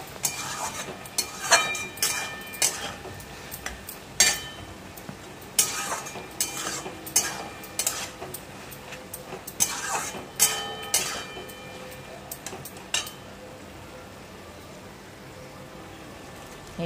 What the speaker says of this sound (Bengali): এবারে পোস্তটা দিয়ে একটু নেড়ে চেড়ে তারপরে নুন দেবো এতে